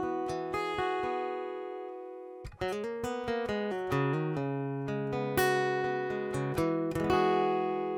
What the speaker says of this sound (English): This is a dreadnought style acoustic guitar with a mahogany body and a Sitka spruce top.